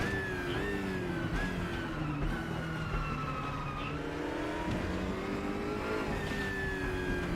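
A BMW race car engine in RaceRoom runs loud and steady throughout, its pitch climbing and dropping with shifts and throttle changes through a slow corner, with another car's engine close by.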